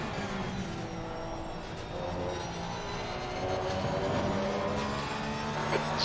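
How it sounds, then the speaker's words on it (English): A race car pulls out of the pit lane at Misano circuit, its engine a steady distant drone that swells slightly, with no talking over it. "There's a car leaving the pit lane."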